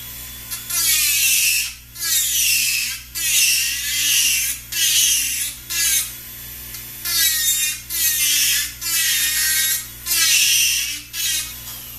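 A dental bur grinding down the thick centre of an acrylic resin palate, a high whining rasp in repeated bursts of about a second with brief pauses, close and loud over a steady low hum.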